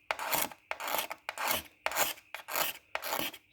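A hand rubs back and forth over coarse, peeling lacquer on a headlight, making six rhythmic, raspy strokes, close and fairly quiet, with short pauses between them.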